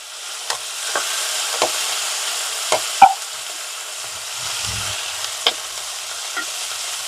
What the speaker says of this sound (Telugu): అందుకని చక్కగా నూనెలో వేగాలండి